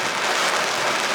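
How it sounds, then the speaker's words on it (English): Heavy rain falls in a dense, loud, steady hiss of drops striking surfaces close by. "you don't see this rain?"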